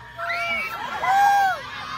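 A person's voice mimics a horse with a rising, wavering whinny lasting about a second, heard fairly close in a noisy event crowd setting.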